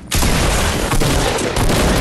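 Dense, continuous automatic fire from a drum gun in a video game, a loud unbroken rattle of rapid shots lasting the whole stretch with only brief dips in intensity.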